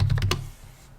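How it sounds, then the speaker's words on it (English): A few quick keystrokes on a computer keyboard while a command is entered at a Windows prompt, close and crisp, fading into quiet within a second. "Here, you'll type ipconfig."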